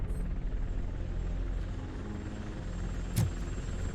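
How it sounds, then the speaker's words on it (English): A TV news helicopter hovers in the video game Robocop: Rogue City, a steady loud rotor rumble throughout with one brief sharp burst near the end. "That's a TV helicopter."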